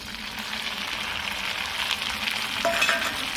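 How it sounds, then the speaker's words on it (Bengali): Ginger, garlic and green chilli paste frying in oil with onion for a Bengali doi katla curry, giving a close, steady sizzle with light stirring and no voices. "এবার দিয়ে দিচ্ছি পেস্ট করে রাখা আদা, রসুন, কাঁচা লঙ্কা।"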